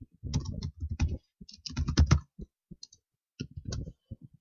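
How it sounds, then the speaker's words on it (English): Typing on a computer keyboard, close and clear, with uneven clusters of rapid key clicks separated by short pauses, no voices. "I'm going to type my message."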